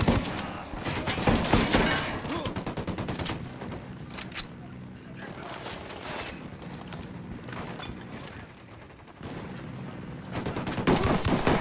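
Gunfire in the tactical shooter game Ghost Recon: dense bursts of automatic rifle fire and rapid shots crackle through most of the stretch, with mechanical clacks between volleys and brief quieter gaps, loud and close.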